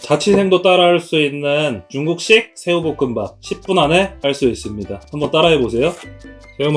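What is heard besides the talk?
No everyday noise stands out behind the speech.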